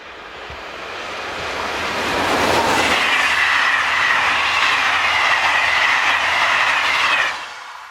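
A northbound train hauled by locomotive BB 7281 rolls past close by, a broad steady roar of wheels and cars building up and holding loud before cutting off abruptly, with no voices.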